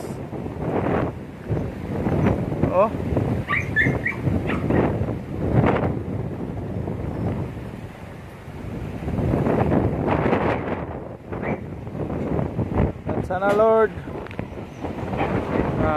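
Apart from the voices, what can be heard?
strong wind blowing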